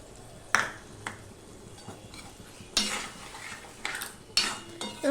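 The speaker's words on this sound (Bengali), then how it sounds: "মশলাটা ভালো করে আমি কষিয়ে নেব" Masala spice paste for a broccoli curry being stirred and fried in a pan: a soft, steady sizzle broken by several sharp clinks and scrapes of a utensil against the metal.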